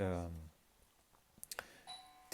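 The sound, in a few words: doorbell ringing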